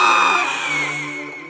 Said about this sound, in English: Daisy, stop messing around back there with your soundboard